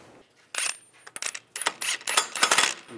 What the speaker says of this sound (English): Now put the nut on. I have a washer as well.